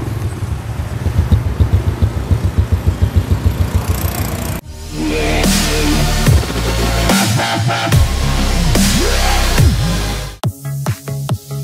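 A motorcycle engine idles with a rapid, even putter, then revs up loudly several times, the exhaust roaring close by before cutting back.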